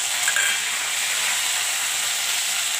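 Green chilies frying in hot oil while making crispy makyacha chivda, a steady close sizzling hiss that runs unbroken throughout.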